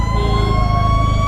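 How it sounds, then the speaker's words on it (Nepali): A fire truck siren sounds continuously and loudly nearby at a short-circuit fire, a sustained high wail layered over a deep, pulsing engine drone. "दमकल छ यार"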